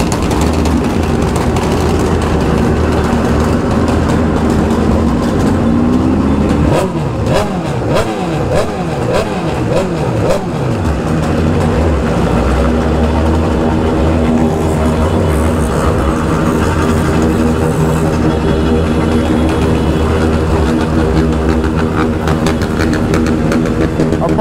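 A BMW S1000RR and other motorcycles riding through crowded traffic, with a continuous loud engine drone and repeated revving bursts rising and falling near the middle.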